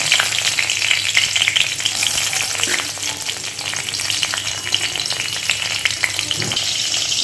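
Slit green chilies fry in hot oil in a home kitchen pan after nigella seeds, giving a loud, steady, close sizzle with occasional stirring scrapes throughout.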